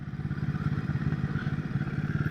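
A Royal Enfield Himalayan 450 motorcycle engine thumps along at a steady, rhythmic idle-to-cruise pace, close and clear.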